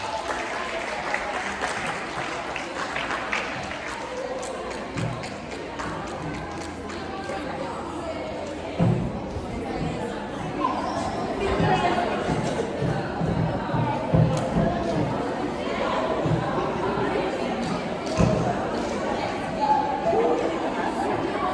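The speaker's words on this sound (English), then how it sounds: "Give him a round of applause, please." Applause from an audience at a college Easter brunch, a steady wash of clapping mixed with crowd chatter that runs throughout, fairly loud and close.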